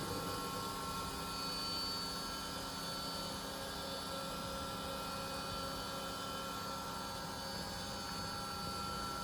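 A vacuum pump runs inside a LAKIDIS TBL90 meat tumbler, giving a steady, continuous mechanical hum and whir that stays even and close throughout.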